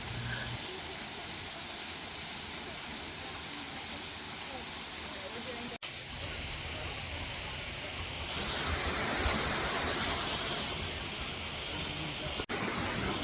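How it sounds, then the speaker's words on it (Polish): A small waterfall in La Fortuna, Costa Rica, gives a steady broadband rush of falling water that grows slightly louder partway through, with a couple of sharp clicks. "Dotarliśmy też nad mały, uroczy wodospad."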